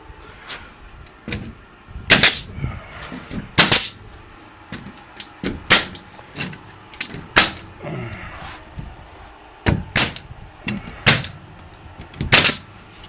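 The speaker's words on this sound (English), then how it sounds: "I like using this nail gun." Pneumatic nail gun driving 2-inch nails during a garage cleanup, sharp loud bangs fired singly and in quick pairs at irregular intervals over a low background hum.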